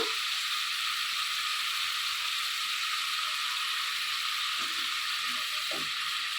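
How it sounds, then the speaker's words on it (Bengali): Spice paste sautéing in a pan with turmeric root, giving a steady, bright, even sizzle throughout, with a few soft scraping stirs of a utensil near the end and no voices. "এখন আমি মশলাটা একটু কষিয়ে নিচ্ছি"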